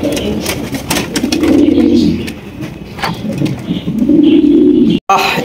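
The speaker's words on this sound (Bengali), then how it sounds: "এত সুন্দর লাহোরি কবুতর, black colour Lahori, toy Lahori" Black Lahori pigeons, including toy Lahoris, coo in low, throaty, rolling bursts, several overlapping, with scattered clicks and rustling of birds nearby; a brief dropout near the end.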